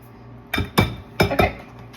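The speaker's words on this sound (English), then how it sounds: "These scissors are awesome." Kitchen scissors snip fresh basil and parsley over a cucumber salad: four crisp, close snips in two quick pairs, with no talking.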